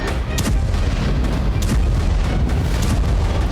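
Repeated deep booms and blasts of explosions in Syria rumble over a constant dense roar, several sharp bursts standing out across the stretch with no voices.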